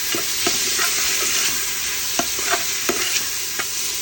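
Green chillies stirred into a goat head curry, with a spoon scraping and knocking against the pot several times at irregular intervals over a continuous close sizzle, no voices.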